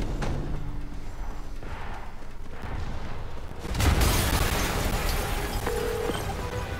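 A sudden deep boom from an explosion in a Spider-Man video game bursts out partway through, followed by a rolling rumble; quieter ambience comes before it.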